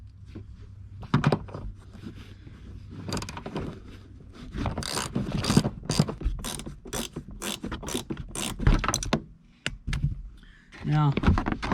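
Ratchet working a 14mm bolt inside a 2019 Honda Civic Sport, bursts of sharp rapid clicking in uneven runs with faint talk and handling noises around them.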